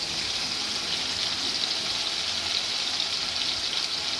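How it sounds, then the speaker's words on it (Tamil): Water pours steadily into a bowl of tamarind in a home kitchen, a continuous bright splashing gush with no talk. "கொஞ்சமாக தண்ணி ஊற்றி நல்லா கரைக்கணும்."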